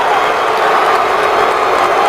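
A stadium crowd at an Eagles NFL game roars with sustained, dense jeering and booing, loud and continuous without a break.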